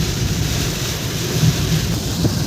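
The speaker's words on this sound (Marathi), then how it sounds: "पाऊस बघा खूप जोरात चालू झाला आहे" Heavy rain drums on a car moving along the Mumbai–Goa highway, a loud, steady roar mixed with road and wind rumble and no voices.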